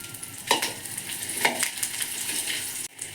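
Garlic fries in oil for Mangalorean chicken sukka, a soft, fairly quiet sizzle broken by a few stirring clatters, with no talk.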